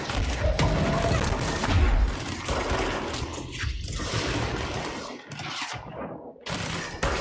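Enemies in the video game Control fire rockets, with dense, loud bursts of gunfire and explosive booms crowding one another and no pause.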